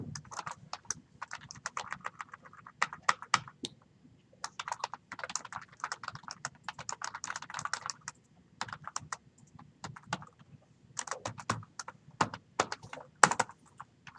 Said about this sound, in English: Don't be typing. Just be paying attention up here.